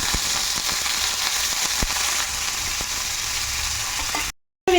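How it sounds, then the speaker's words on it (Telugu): Dried red chillies and curry leaves fry in hot oil as a tempering for a chutney, giving a loud, even close sizzle with a few sharp pops before it cuts off briefly near the end. "ఇప్పుడు అందులో ఎండుమిర్చి, కొంచెం కరిమాకు వేస్తున్నాను"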